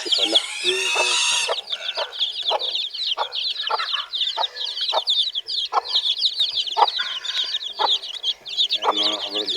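Pet chickens and small chicks cluck and peep together in a farmyard, a busy stream of high chirps over repeated lower clucks, close and lively, with a loud squawk at the start.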